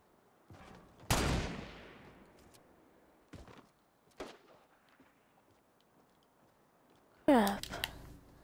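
Gunfire in the video game Fortnite: a loud sharp shot, a few fainter distant cracks, then a final rattling burst, with players talking in between.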